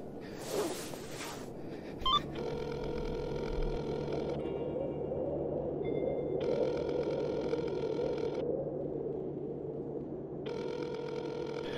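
A phone call rings unanswered in a video game: three repeated electronic ringing bursts, each about two seconds long and separated by pauses, over a steady low background hum.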